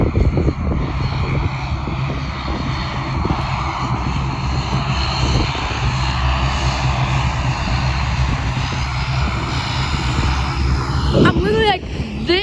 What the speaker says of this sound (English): close to an airplane